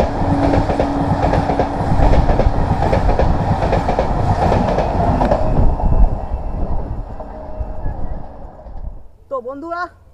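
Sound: train passing at a railway crossing

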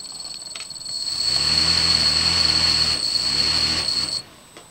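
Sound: faulty motor chattering on startup

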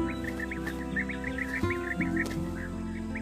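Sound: European bee-eaters calling

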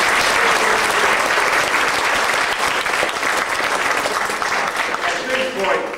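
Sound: audience applause for cast and crew

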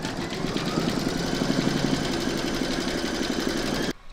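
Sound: embroidery machine stitching a placemat design

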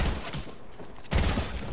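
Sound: gunfire from shooting in a video game

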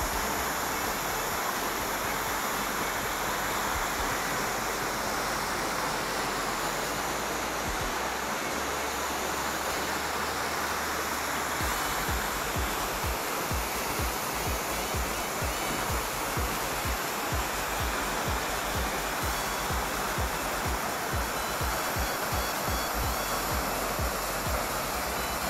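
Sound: Skakavac waterfall, heard from close by

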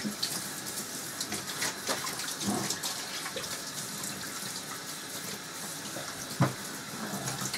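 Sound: water rinsing chemicals off a cornet

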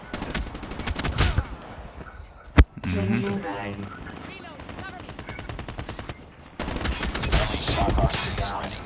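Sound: shotgun firing in a video game

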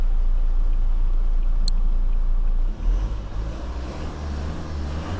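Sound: pickup truck engine idling

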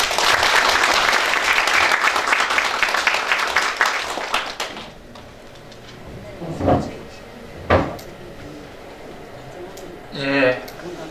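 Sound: audience applause welcoming lecturer Choi Jin-gyu

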